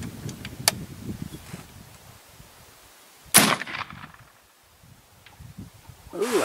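An AirForce Texan .457 big-bore air rifle fires a single sharp, loud crack at a distant target, with quieter handling clicks before it and a faint rustle after.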